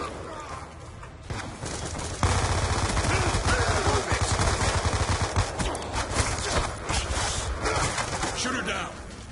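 Rapid automatic gunfire from Call of Duty Black Ops 2 rattles in dense bursts over several seconds, mixed with other game noise, and players talk over it.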